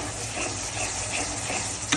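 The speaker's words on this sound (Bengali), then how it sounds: "আমার অলমোস্ট ডান মশলাটা কষানো, তেল উঠে গিয়েছে" Spice masala fries in oil for koi fish bhuna, a dense, loud and continuous sizzle heard up close, with a faint stirring knock near the end and no talking.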